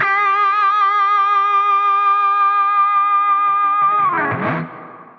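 An electric guitar through an Epiphone So Cal 50 amp with heavy gain and deep reverb: one sustained, distorted chord rings steadily close up, then a scraping strum near the end as it cuts off.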